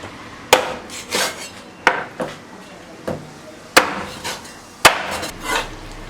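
A cleaver chops through thawed free-range chicken on a wooden board for Hunan-style chili chicken, several sharp, loud thwacks at an irregular pace with brief pauses between blows and no talk.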